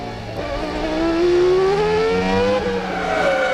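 A 1995 Formula 1 car at the British Grand Prix runs at low revs through a corner, its engine tone rising slowly, fairly close and loud over a constant background roar of the circuit.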